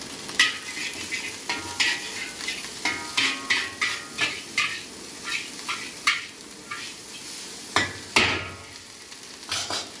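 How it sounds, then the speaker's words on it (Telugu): Fast food frying in a kadai at a roadside stall in a tribal village, with a metal ladle scraping and tapping the pan in a steady repeated rhythm over a continuous sizzle. "ఆ లోపు ఫాస్ట్ ఫుడ్ అయితే మంచిగా వేగుతుంది చూడండి."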